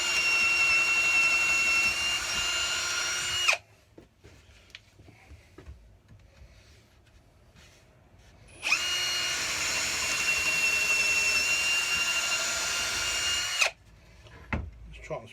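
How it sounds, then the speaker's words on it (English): A Ryobi R18PD7 cordless percussion drill runs on speed setting 1, two steady high whines of about four to five seconds each, separated by a quiet pause, close by. "Speed number 1 feels more suited to drilling."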